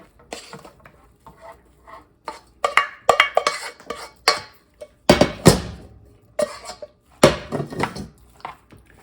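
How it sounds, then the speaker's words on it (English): Stuffing gets stirred into a turkey and apple casserole mix in a bowl, producing loud, close scraping and clinking of a utensil against the dish in uneven strokes, with wet squelching between, no talking. "Mix this all together."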